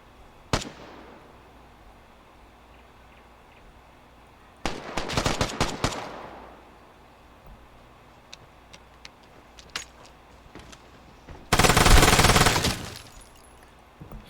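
Distant gunfire from players fighting outside in the video game Vigor: a sharp single shot, then a rapid burst of automatic fire, scattered faint pops, and a loud sustained crackling volley near the end.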